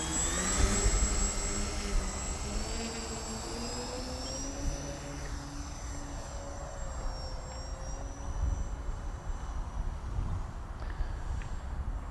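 A Bush Mule RC plane's electric motor whines steadily and loudly through its takeoff, its pitch rising and shifting as the throttle changes, close by, under constant wind noise and with no talk.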